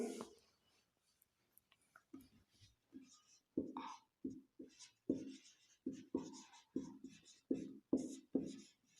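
Pen or chalk writing out a definition by hand, a run of short scratchy strokes in quick rhythmic bursts, close and fairly quiet, with no talk over it.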